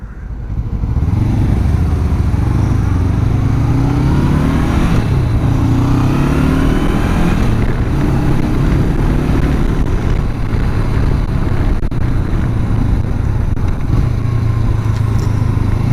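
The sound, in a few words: Honda CB500X motorcycle riding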